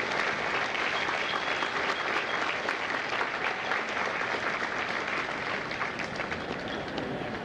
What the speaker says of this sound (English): a round of applause for our recruiters and our combat instructors